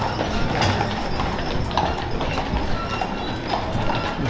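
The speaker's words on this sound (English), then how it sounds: "There's horses for everything." Horses clip-clop along the streets of Mackinac Island, a steady run of hoof beats close by that carries through the whole stretch over a busy outdoor background.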